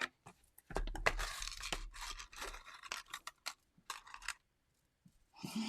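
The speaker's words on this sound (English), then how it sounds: "we are going to take that die cut machine really quickly and cut a piece out" A die cut machine cuts a paper piece for a holiday ornament, giving irregular crunching, ratcheting and crinkling bursts that are close and fairly quiet, then fade into pauses.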